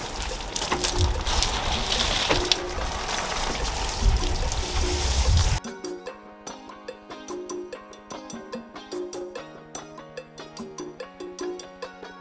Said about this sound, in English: I'm just going to rinse off the soapy water from the car